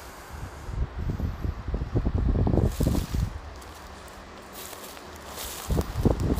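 Gusty wind blowing outdoors over scrubland with bushes and garrigue, rough buffeting noise and rustling, some low thumps like footsteps, moderately loud then easing.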